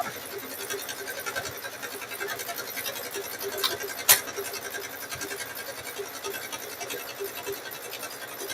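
Sewing machine stitching binding along the seam of a Christmas quilt, a faint steady scratchy whirr with one sharp click partway through.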